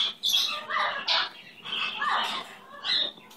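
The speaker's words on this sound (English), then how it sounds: "What an amazing bird you are." A pet bird gives a series of loud, harsh squawks and screeches in quick succession, close to the listener, with short pauses between calls.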